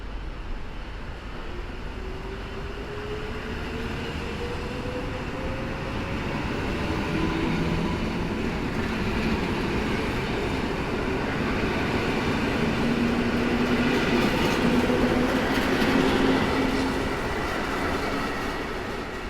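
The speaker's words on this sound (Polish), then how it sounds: "wjeżdża kończący bieg pociąg osobowy z Siedlec" A passenger train from Siedlce pulls into Warszawa Zachodnia station at the end of its run, a steady rolling rumble with faint wheel squeal rising and falling as the cars glide in close by.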